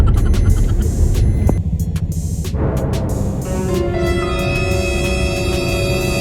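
A car rolls slowly along a road, its engine a steady low rumble with a faint throbbing, close and continuous with no voices over it.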